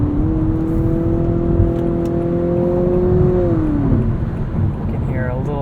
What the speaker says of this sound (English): You can hear a little bit of four-cylinder fakery noise there going on